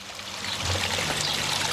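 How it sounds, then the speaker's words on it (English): A pondless garden waterfall flowing, a close, steady splashing and trickling of water that stays even and continuous across the short stretch. "The pondless waterfall is looking amazing still."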